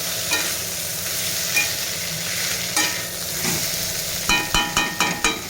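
Salted bitter gourd and pumpkin pieces fry in hot oil with a steady close sizzle, a few clacking stirs scattered through and a quick run of four or five spatula knocks at the end.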